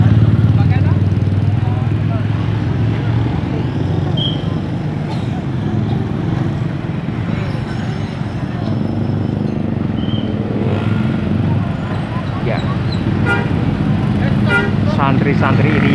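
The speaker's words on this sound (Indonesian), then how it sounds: "mengatur lalu lintas dengan sigap dan penuh ketenangan agar lalu lintas tidak macet di perempatan ini" Busy intersection traffic with cars and motorcycles, a dense constant engine roar close by, with occasional short horn toots cutting through and a person talking over it throughout.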